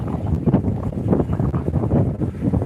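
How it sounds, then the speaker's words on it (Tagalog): Strong gusty wind pounding the microphone at the Embarcadero de Legazpi seafront, a loud uneven low roar that swells and dips without pause. "Lakas ng hangin sound. Maingay ang sound."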